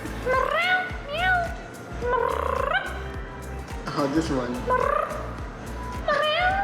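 A person imitates cat meows at a Korean cat cafe, with rising and falling mewing calls repeated several times, mixed with brief speech and possible replies from cats nearby.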